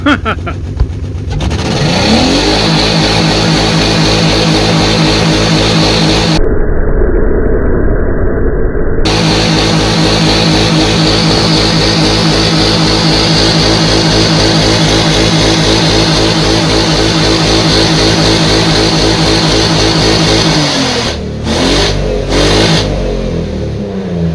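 A Nissan 3.5L engine idles loudly and close by with a steady, even mechanical drone that holds throughout, with a few brief dropouts near the end.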